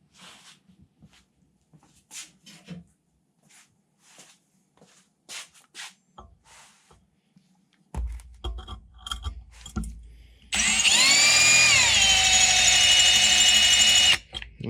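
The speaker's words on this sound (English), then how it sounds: "That drill bit is doing nothing." A drill bit bores into stainless steel, first with scattered scraping and tapping, then a loud sustained high-pitched screech and whine as the bit grinds against the metal before stopping.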